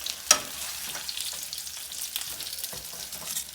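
Enchilada tortillas fry in a hot pan with a steady, fairly quiet sizzle and crackle, a sharp spatter as they go in, then soft scraping and light clatter throughout.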